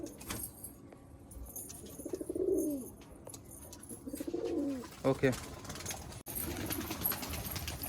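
Punjabi Malwai pigeons coo in a few soft rolling bursts at close range, with someone speaking briefly and some handling clatter around them.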